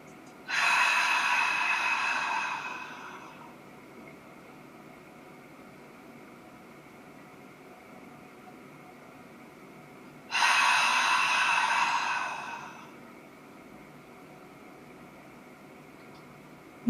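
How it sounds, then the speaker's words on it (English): Two long, loud breaths, each lasting a few seconds and separated by a quiet gap, during a diaphragmatic breathing exercise for posture, heard close over a low steady background hum. "Let's keep going for 2 to 3 more reps of breath."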